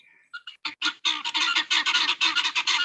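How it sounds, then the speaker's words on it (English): Guinea fowl in a hen house give a rapid run of loud, harsh, nasal clucks that start as a few scattered calls and build into a dense, close chorus. "That's a chorus of clucks. They're not chickens. There's a Guinea rooster fowl. in the hen house."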